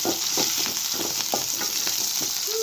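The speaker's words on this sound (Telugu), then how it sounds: "తర్వాత పచ్చిమిర్చి, కరివేపాకు, ఉల్లిగడ్డ ఒకసారి కలిపేసుకుందాం." Green chillies, curry leaves and onion sizzle in hot oil for upma, a dense continuous frying hiss with soft rhythmic stirring scrapes, close and steady with no talk.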